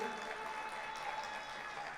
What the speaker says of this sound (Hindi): एक बार जोरदार तालियां बजाकर मुझे मन दे दीजिए